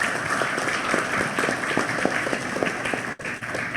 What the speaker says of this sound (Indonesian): kita tepuk tangan yang kencang untuk semua narasumber kita